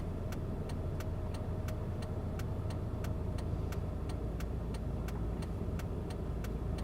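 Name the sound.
road traffic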